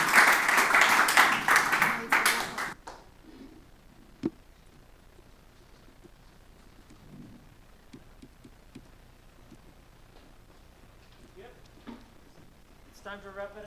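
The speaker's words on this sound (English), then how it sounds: "I would like to ask for another round of applause for the wonderful presentation by Professor Matthias." Audience at an international conference applauding after a professor's presentation, a loud burst of clapping that cuts off after about three seconds, leaving a quiet room with scattered small bumps and faint voices.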